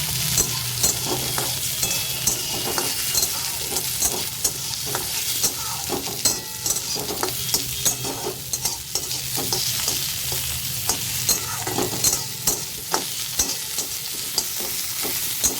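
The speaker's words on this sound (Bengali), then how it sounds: "এইভাবে নাড়তে হবে টমেটোর সাথে" Chopped tomatoes and ginger frying in a pan with a steady sizzle, while a utensil scrapes and stirs in quick repeated strokes, close and fairly loud, with no talking.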